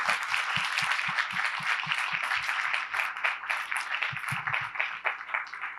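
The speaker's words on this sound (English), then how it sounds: "Let's have a big round of applause for our faculty members." Sustained audience applause at a school board meeting honoring faculty members, a dense steady clapping from a room full of people with a few nearer, distinct claps, continuing for several seconds without speech.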